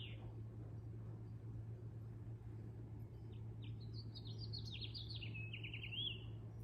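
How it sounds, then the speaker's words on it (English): Birds chirping and singing outside an open window on a warm day, faint twittering calls in the second half over a steady low hum and background hiss, no talk. "Listen to those birds."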